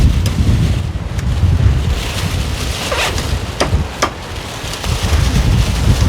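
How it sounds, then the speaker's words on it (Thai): Strong wind buffets the microphone outdoors near a market, a loud roaring rumble with gusting swells and a few sharp rustling bursts, no talk. "โอ้ยสังลมเด่น"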